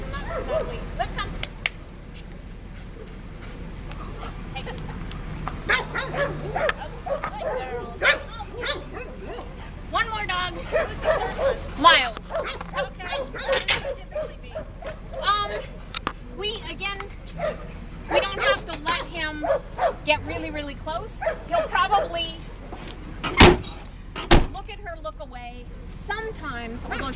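A dog barks, yips and whimpers in excited bursts throughout a long stretch, some sharp barks loud and close, with people talking over it.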